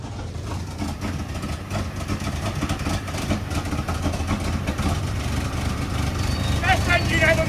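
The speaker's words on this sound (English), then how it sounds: "Best engine ever made! Oh, what an engine!" An ancient, long-neglected truck's engine running at idle, a continuous low rumble with loose mechanical clatter that builds slightly over the stretch, with excited voices shouting over it.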